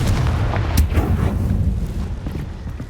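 A Confringo blasting spell explodes in Hogwarts Legacy, a loud, close, booming blast with a deep rumbling tail that fades over a few seconds, heard alone.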